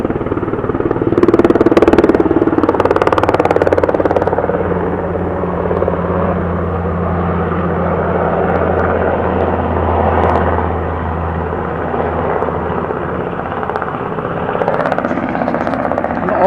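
A mountain rescue helicopter on a training flight circles overhead in the Snowdon mountains, its steady rotor drone loud and sustained throughout, swelling slightly early on as it passes closest.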